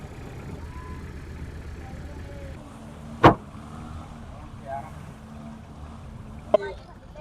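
A boat moves on clear water between islands, giving a steady low rumble with a few soft knocks and one sharp bump near the end.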